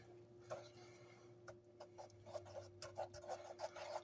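A spoon scraping and rubbing through thick chocolate peanut butter fudge mixture, with quiet rhythmic rasping strokes repeating under a steady low hum.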